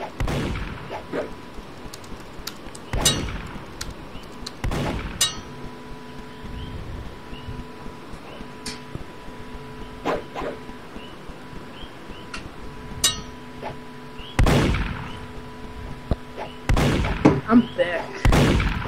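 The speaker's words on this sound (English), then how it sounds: "Look, they're shooting." Repeated gunshots in the online game Murder Mystery, sharp bursts scattered irregularly over steady background music, with people talking over them.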